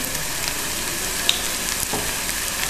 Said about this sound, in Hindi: डाल के हम इसे सौते करेंगे।